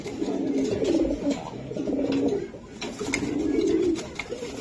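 Netherlands racing pigeons coo in repeated low, throaty phrases close by, several overlapping rolling calls in steady succession.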